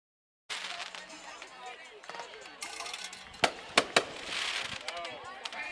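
A fireworks show goes off before a high school football kickoff, with several sharp, loud bangs and crackles over the steady noise of a large crowd.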